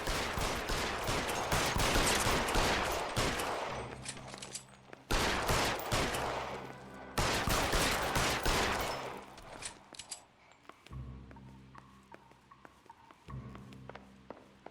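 Rapid bursts of gunfire in the L.A. Noire video game crack out loudly in dense volleys, broken by short pauses, with a low tonal music bed showing through between shots.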